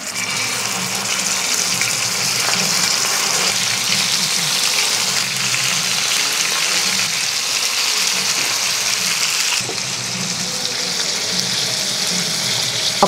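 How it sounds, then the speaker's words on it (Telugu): Fish pieces frying in hot oil in a pan give a loud, continuous sizzling hiss that holds steady throughout, with a slight drop in intensity near the end. "ఇప్పుడు దీంట్లో మనం ఫిష్ ఫ్రై చేసుకుందాము"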